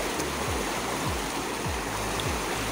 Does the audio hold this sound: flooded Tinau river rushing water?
yes